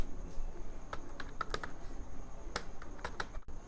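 Keys on a computer keyboard are tapped in short scattered bursts while a firm name is entered, quiet close clicks over faint room hum with no speech.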